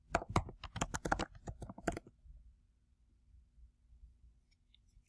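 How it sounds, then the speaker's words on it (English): Quick, close-up keystrokes patter on a computer keyboard as a search is typed, a dense burst of clicks lasting about two seconds. Near-silence follows. "And then type in a search"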